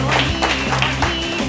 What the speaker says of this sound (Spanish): ¡Qué bonito cuando te aplauden espontáneamente,